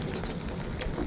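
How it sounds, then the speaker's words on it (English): Rain falling steadily during a boat tour, a dense close hiss with scattered drop patter over about a second. "It's raining."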